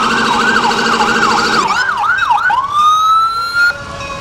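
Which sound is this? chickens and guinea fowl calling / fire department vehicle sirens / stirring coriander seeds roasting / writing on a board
fire department vehicle sirens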